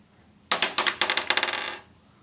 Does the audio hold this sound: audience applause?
no